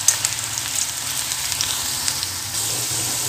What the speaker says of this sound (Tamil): நல்லா கிறிஸ்பியாக வர வரைக்கும் ஒரு 10 நிமிஷம் போல் நல்லா ஃப்ரை பண்ணி எடுத்துக்கலாங்க